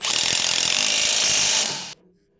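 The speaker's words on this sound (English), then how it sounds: "Using your 18mm wrench and a 15mm socket, snug the lower shock bolt." Ratchet with a 15mm socket snugging the lower shock bolt on a 2014 Ford F150, a rapid run of ratcheting clicks lasting under two seconds, close and loud, then stopping abruptly.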